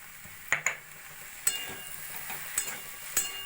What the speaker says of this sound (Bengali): এভাবে নাড়াচাড়া করে ভালো করে মিশিয়ে নেব।